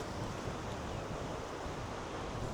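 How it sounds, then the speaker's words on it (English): The incoming tide rushes up the estuary at Barmouth in North Wales, a steady, loud broadband roar of moving water, with possible wind buffeting, continuous throughout with no talk. "This is the tide coming in. It is just forcing its way back up the estuary."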